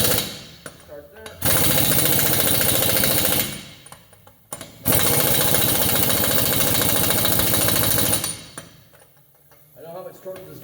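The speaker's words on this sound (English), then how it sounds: "I know how much torque this gun is, so I'm just watching to see when the socket stops moving." An impact gun tightens brake bolts in two long, loud, steady rattling bursts, with shorter pneumatic stutters and shop noise around them up close.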